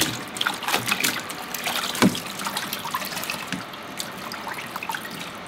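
Cold tap water runs and splashes over cooked cabbage in a sink, a steady close rinsing stream with irregular spatters and a few stronger gushes.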